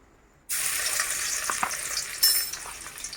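About two spoonfuls of chopped garlic hitting hot oil in a kadai for mixed fried rice, an abrupt loud sizzle after a quiet start that keeps crackling, with a few stirring scrapes.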